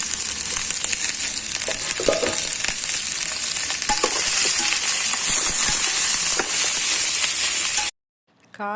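Chopped ivy gourd sautés in a hot pan with onion and green chilli, a loud, continuous close sizzle broken by a few stirring scrapes before it cuts off abruptly near the end.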